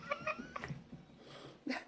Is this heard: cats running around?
yes